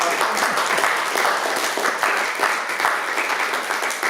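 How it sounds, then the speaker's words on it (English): An evening lecture audience applauds the speaker after a talk on Ireland, with steady, full clapping from many hands throughout, moderately loud and close. "So why don't we give Ross a little bit of applause, and then we'll go through questions."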